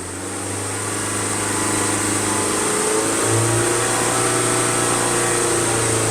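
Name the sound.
2021 Ford Transit Connect engine held at high idle, 3000-4000 RPM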